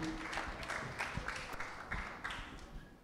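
An audience applauds a contestant at the Miss Samoa 2021 pageant; the clapping is faint and distant, a soft continuous patter with a few louder claps and no talking over it.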